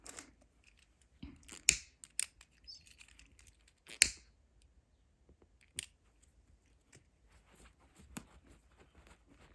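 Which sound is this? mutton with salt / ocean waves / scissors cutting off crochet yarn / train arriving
scissors cutting off crochet yarn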